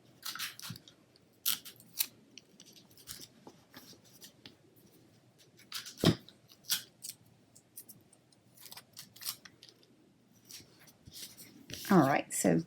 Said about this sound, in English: I'm just going to cut a piece there.